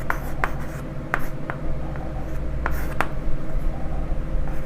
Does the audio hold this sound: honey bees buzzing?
no